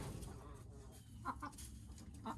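A laying hen in a coop gives a few short, soft clucks in quick succession, set against a steady low rumble of background noise.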